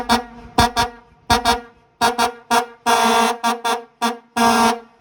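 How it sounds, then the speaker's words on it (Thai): A six-trumpet air horn blares loudly in short, uneven bursts, some clipped and some held longer, with no talking over it. "อ้โหสุดยอดครับผมไอ้ที่เสียงประมาณนี้ครับ ฟังไปก่อนหกปาก"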